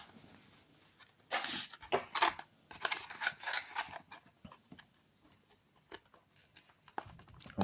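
Plastic packaging around a diecast toy car is pried and tugged open, giving close, crinkly bursts of crackling and snapping plastic with short pauses between efforts and no speech.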